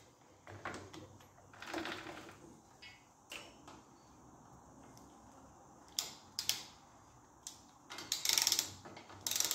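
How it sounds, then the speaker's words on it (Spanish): A ratchet with a 21 mm socket tightens a nut on a Vespino NL moped chassis, giving scattered bursts of clicking and metallic clatter separated by quieter stretches, close and fairly faint. "esta tuerca ya la podemos apretar. Y apretamos con un vaso de 21."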